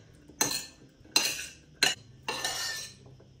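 A spoon stirs Greek yogurt and sour cream in a bowl, making four distinct clinking scrapes against the bowl at irregular intervals, close and clear with quiet gaps between.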